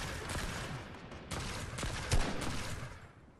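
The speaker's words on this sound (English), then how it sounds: "Oh, he's shooting." Gunfire rattles through a Fortnite match, a series of sharp shots and bursts at mid distance, with one heavier crack standing out partway through before fading toward the end.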